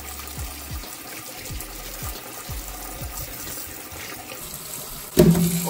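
Tap water runs steadily into a sink while corn is washed, a continuous splashing stream with faint knocks, ending in a sudden louder clatter.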